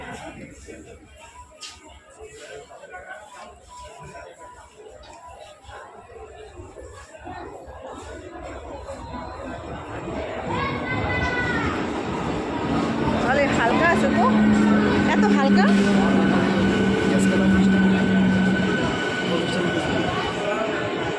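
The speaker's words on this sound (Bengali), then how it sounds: "তো দেখো ট্রেন চলে এসেছে।" A train pulls into a station platform, its rumble and squealing wheels swelling from about the midpoint and holding loud to the end, with people talking over it.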